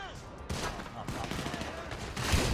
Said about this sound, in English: This guy is pissing me off with his shotgun.